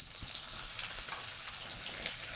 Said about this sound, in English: you're just gonna get the wok and the oil heated and the Spam in